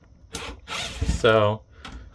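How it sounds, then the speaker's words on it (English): A cordless drill gives one brief, high whirring burst while removing screws from an Opti VS375C compact UPS battery backup, between soft clicks and handling noises, close by and fairly quiet. "Forgot to switch battery in my drill."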